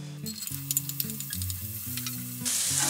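Onions and garlic hit a hot frying pan for pancit canton, giving a brief, close sizzle beneath steady background music that grows brighter and louder near the end.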